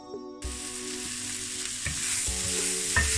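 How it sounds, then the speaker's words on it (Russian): Onion sautéing in oil in a frying pan, a steady loud sizzle that starts abruptly and continues, with a few scraping stirs of the pan partway through; no voices. "И буду пассеровать до такого прозрачного цвета."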